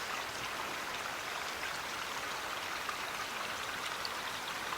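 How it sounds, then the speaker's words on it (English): Spring water flowing out of a mountainside near an abandoned forest village, a constant close splashing and trickling wash with no pauses. "There's a nice sized spring that comes out of the mountain here."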